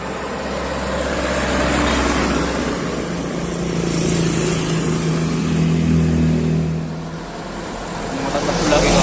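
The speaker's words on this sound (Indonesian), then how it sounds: "Truk muatan tebu." A truck loaded with sugarcane passes on a road, its engine a loud steady rumble that swells and eases with the pass while other traffic continues.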